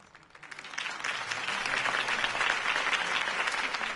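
Applause from a crowd in a video game swells up quickly and holds at a steady, dense clatter of many hands clapping.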